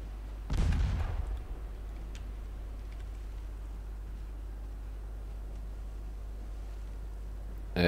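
A cruiser's guns fire in the naval warfare game Ultimate Admiral Dreadnoughts, giving one heavy, close cannon boom near the start that fades into a steady low rumble of ambient sea and engine noise.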